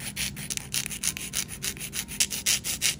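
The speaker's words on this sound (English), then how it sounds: "Okay, now I'm just going to shape the nail tips." Artificial polygel nail tips are filed into shape by hand with close, rapid back-and-forth rasping strokes in an even rhythm, with no talking.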